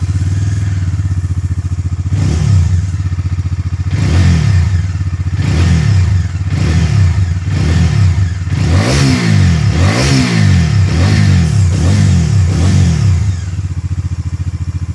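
A single-cylinder motorcycle's exhaust note, revved up repeatedly in loud, close bursts, each rising and falling with a thumping grunt over a steady idle throb, with no talk over it.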